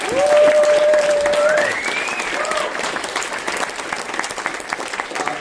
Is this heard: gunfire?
no